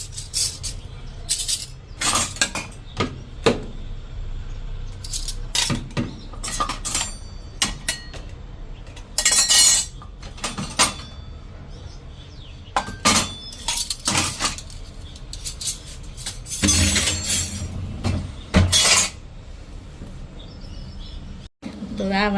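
Spoons and other metal utensils clink and clatter in sharp bursts as a dishwasher basket is handled, with someone talking between the rattles.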